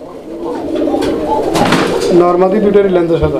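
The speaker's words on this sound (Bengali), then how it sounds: "দর্শক বন্ধুরা নরের ডাক দেখেন।" A male Raj-golla pigeon coos up close in low, rolling throaty calls while someone talks over it.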